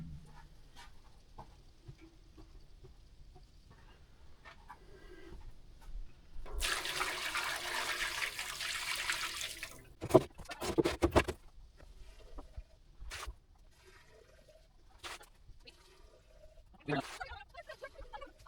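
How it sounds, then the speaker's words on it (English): Fresh water running into a pan for cleaning, a few seconds of steady rushing flow followed by bursts of splashing and clanks, with someone talking quietly before and after. "got some fresh water on there. We'll clean this pan up good."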